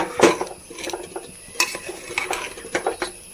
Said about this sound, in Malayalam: നന്നായി ഒന്ന് ഇളക്കി കൊടുക്കട്ടെ